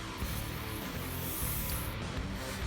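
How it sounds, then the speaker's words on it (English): WD-40 sprays onto a rag in a quiet, steady aerosol hiss that runs continuously from start to finish, close to the mic. "spray some WD-40 on it"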